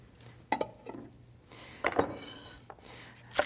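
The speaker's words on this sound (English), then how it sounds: "We'll just start stirring it together." A utensil scrapes and clinks against a pan while spring onions and other vegetables are stirred together, giving a few sharp knocks spread irregularly through otherwise quiet kitchen sound.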